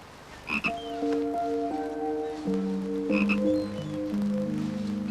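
A frog croaks continuously, with a layered, droning series of pitched croaks that shift and overlap for several seconds, fairly loud and without talking.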